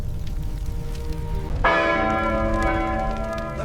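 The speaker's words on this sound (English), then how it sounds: "The courthouse bell rang frantically." A courthouse bell rings out in 1870s Chicago, a sudden bright clanging strike that swells and hangs in a long ringing decay over a low rumbling background.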